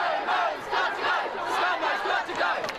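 A large crowd of student climate protesters marching down Collins Street, a continuous roar of cheering and chanting voices, dense and sustained at moderate distance.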